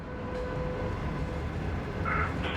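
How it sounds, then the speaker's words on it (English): A train speeds past a station, a steady broadband rumble and rush of wheels on rails held at constant loudness, with a faint tonal whine and a brief higher squeal near the end. "But most trains just speed right past."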